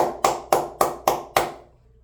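A single person claps hands five times in a steady rhythm, close and fairly loud, with the last clap fading into quiet.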